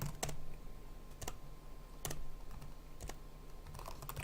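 Someone types a new password on a computer keyboard: a handful of crisp, close keystrokes spaced about a second apart over a faint steady hum.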